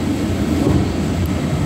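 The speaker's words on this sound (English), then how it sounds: "This is the train that I'm on." A moving train rumbles steadily from inside the passenger car, a loud constant low roar and rattle with no talking.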